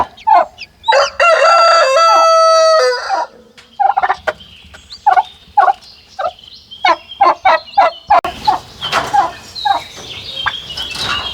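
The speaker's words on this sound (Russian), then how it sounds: "Цыплята с индюшатами вместе." Turkey poults and chicks kept together in a pen, a loud burst of gobbling and crowing-like calls followed by a long string of sharp clucks and chirps, close and busy, with no talk.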